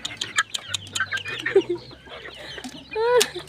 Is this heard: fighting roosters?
yes